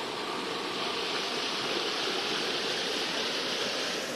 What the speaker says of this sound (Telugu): వచ్చేసినాం ఇక మనం వాస్తాపూర్ వాటర్ ఫాల్స్కి.